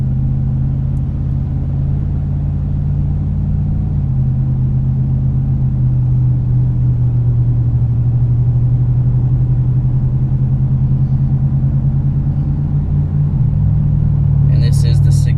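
A Ram 2500 pickup with the 6.4 Hemi V8 and a Magnaflow exhaust gives a steady, deep rumbling drone from up close. Its low engine note shifts slightly in pitch as it goes on.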